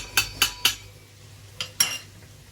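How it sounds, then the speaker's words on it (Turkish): A metal spoon clinks against a pot while tomato paste is added to a bean stew: three quick sharp taps, a pause, then two more, close and clear with no talk. "Kaşık salça koyuyorum arkadaşlar"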